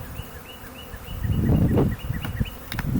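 Honey bees buzzing around a newly installed three-pound package hive, a close, dense hum that swells in the middle and then fluctuates, with individual bees whining past and a couple of small clicks near the end.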